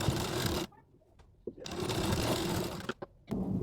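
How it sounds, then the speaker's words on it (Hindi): Sewing machine running in two bursts as it stitches the side seam of a blouse, a close, steady mechanical whirr with short pauses and a brief tap between runs. "देखिए हमने सीधे साइड से तो सिलाई लगा दिया"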